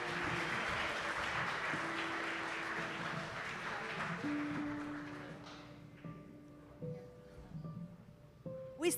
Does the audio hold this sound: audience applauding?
yes